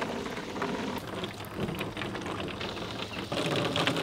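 Water from the hose of a movable rain water tower in a homestead garden patters steadily and evenly, a continuous close spray with faint irregular ticks, with no talking.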